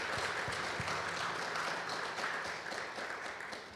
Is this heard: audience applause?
yes